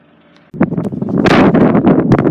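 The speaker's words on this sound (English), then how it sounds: "it's a very windy day" Strong wind at Lough Gur, Ireland, buffets the microphone in a sudden rush, a rough, roaring rumble that gusts and flutters without letting up.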